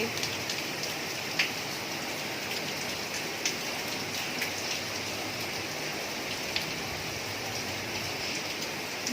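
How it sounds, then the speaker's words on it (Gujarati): Heavy rain pours down in a dense, continuous hiss, with scattered louder drops pattering nearby. "અત્યારે ફૂલ વરસાદ ચાલુ થયો, મોટા મોટા છાંટા"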